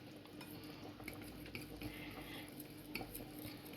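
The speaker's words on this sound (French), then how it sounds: "Je mélange pour avoir une préparation assez homogène." A spoon stirs peanut paste into a sauce in a bowl, mixing until smooth, giving a steady, soft scraping and clinking at close range throughout, with no one speaking.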